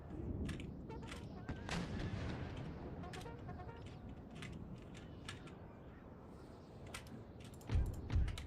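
Artillery volleys in the Empire Total War battle game, with repeated booming cannon shots and scattered gunfire crackling over a dense battlefield din, one heavier blast near the end.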